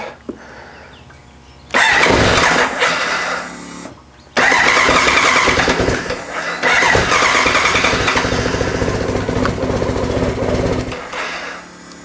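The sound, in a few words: BMW K100RS 16V motorcycle engine starting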